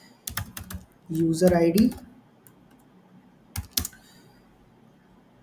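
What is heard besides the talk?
typing code on a computer keyboard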